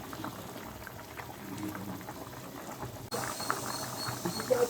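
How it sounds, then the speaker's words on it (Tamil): A pot of potato and brinjal kara kuzhambu, a spicy Tamil tamarind curry, bubbles on the stove with a steady soft simmering burble that grows louder and closer partway through, with no talk. "நம்ம காரக்குழம்பு சூப்பராக கொதிச்சு ரெடி ஆயிடுச்சு."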